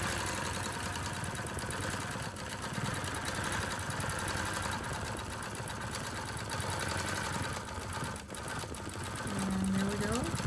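Gammill longarm quilting machine stitching along the side of a Christmas quilt, a steady, dense mechanical whir with rapid needle rhythm running continuously and fairly close.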